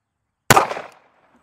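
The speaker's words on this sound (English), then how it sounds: "Again, we're shooting it out of our Bodyguard." A single sharp gunshot from a Smith & Wesson Bodyguard 2.0 pistol firing a Federal Hydra-Shok round into ballistic gel, loud and close, with a short decaying echo and no talk.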